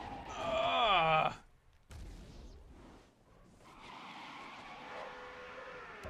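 In GRID Autosport, a drifting car opens with a loud wavering whine of engine and tire squeal that cuts off abruptly, followed by a quieter rumble and a low hiss of sliding tires.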